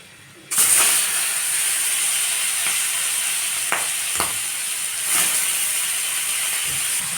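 Singi fish coated in salt and turmeric hits hot oil in a wok, setting off a sudden loud sizzle that continues as a steady close hiss with occasional crackles and clinks.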